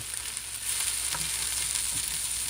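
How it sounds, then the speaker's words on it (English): Broccoli sizzles in a pan as it gets a brief stir, a steady crackling fry with a faint scrape of the utensil partway through. "Add some salt. Okay, and give it a little stir."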